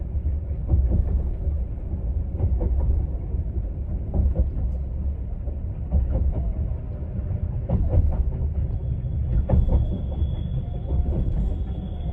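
Heavy, continuous rumble of the Caledonian Sleeper train rolling along the tracks on its final approach into Fort William, heard from inside, with rhythmic clacks and a faint high squeal near the end.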